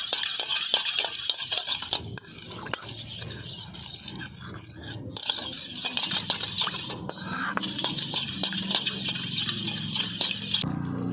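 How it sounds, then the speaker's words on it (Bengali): Spoon stirring yeast, sugar and warm milk in a steel bowl for homemade sweet bread, a steady close scraping and rubbing that carries on throughout with brief pauses and no talking. "এবারে ইস্ট, চিনি আর এই গরম দুধ একসাথে খুব ভালো করে মিশিয়ে নেব।"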